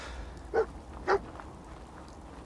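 The dog companion Dogmeat in the video game Fallout 4 gives two short, moderately loud barks about half a second apart over a low game ambience.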